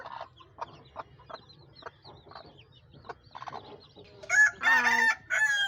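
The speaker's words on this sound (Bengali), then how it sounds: "আর এখানে হচ্ছে মুরগি একটা ডিম পাড়তে বসছে এখন।" Chickens in a farm coop on a rainy day, with soft clucks and short calls spaced through the first seconds, then loud near crowing-like squawks toward the end, no talk.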